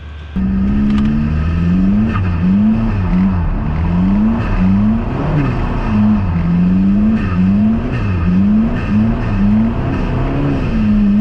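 A Toyota MR2 with a 1.9 TDI PD diesel engine and maxed-out injectors revs repeatedly on and off the throttle. The close, loud engine note rises and falls in a steady rhythm of quick blips.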